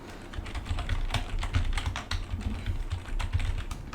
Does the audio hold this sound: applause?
no